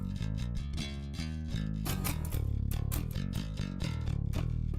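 Pop-punk band mix built around a clean DI bass track with scooped mids, playing a loud, driving riff with distorted guitars and rhythmic hits and no voices.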